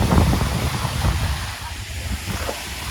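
Strong wind at a beach buffets the microphone in heavy rumbling gusts, with faint surf-like wash underneath and no clear speech.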